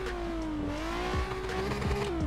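A Nissan 350Z in Assetto Corsa pulls through traffic, its engine drone rising steadily in pitch as it accelerates, with brief tire thumps and road noise underneath; no one speaks.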